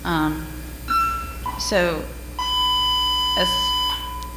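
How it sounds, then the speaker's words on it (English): A short electronic bell tone rings out during a school board meeting, with several brief beeps and a sustained steady tone sounding over and between people talking. "that's just a bell"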